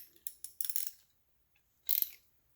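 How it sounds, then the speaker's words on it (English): A ratchet wrench clicks in a few quick bursts while tightening a bolt on a Bosch warm-up regulator, with a pause before a final short run of clicks, close and fairly quiet. "Okay, got the wrench so I can tighten it properly."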